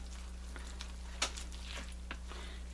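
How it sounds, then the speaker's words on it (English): A spoon scraping through a pot of lentil, potato and squash curry after an hour of simmering, a few soft separate strokes over a low, steady bubbling hiss, with no talk. "I'm going to mix this up a little bit here."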